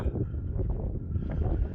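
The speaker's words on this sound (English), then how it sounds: "It's quite windy up here." Steady, full-bodied wind buffeting outdoors on a Lake District fell top above Buttermere, a continuous low roar with slight gusting swells and no voices.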